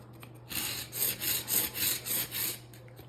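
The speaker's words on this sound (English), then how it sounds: "Hand scrape all the edges." Hand scraping along the beveled edges of an engineered wood floor, a series of about six rhythmic rasping strokes, close and fairly loud, with a low steady hum underneath.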